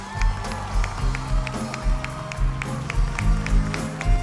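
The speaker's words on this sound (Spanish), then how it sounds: "Y creo que se merece un aplauso más fuerte." Circus audience applause with cheering after a horse act, a steady wash of clapping from a large crowd with periodic sharp accents, fairly close and continuous, at Circo Hermanos Vasquez in Brownsville, Texas.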